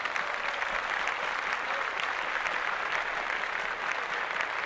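Applause on an urban culture podcast: an even, continuous wash of many clapping hands at steady loudness, with no pauses or talking over it.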